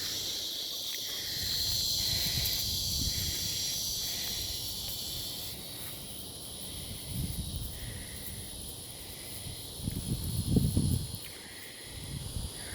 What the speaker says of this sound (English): And the cicadas, in case you can't hear them.